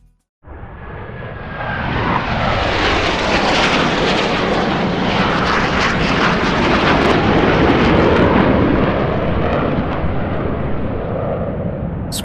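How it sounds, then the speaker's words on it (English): Jet aircraft engines roaring in as they approach and land, starting suddenly after a moment of silence and holding as a loud, broad, continuous rumble with no talking. "Scrooge is once again awakened by the sound of approaching aircraft. This time, it's jet engines he hears."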